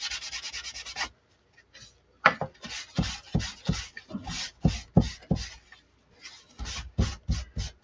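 Faux stain is wiped back on a wooden snowflake craft piece with soft, close rhythmic rubbing strokes in quick bursts, separated by short pauses and no talk.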